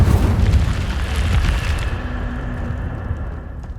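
The Incendio fire spell is cast in the Hogwarts Legacy video game, a loud, close whooshing burst of flame with a deep rumble that fades into a softer roar.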